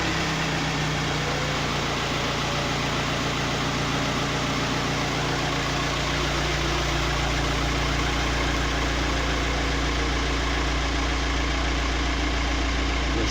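A 2007 Volkswagen Touran with a diesel particulate filter fault, its engine running at a steady loud idle close by, the hum shifting slightly after about six seconds and then holding constant without talking.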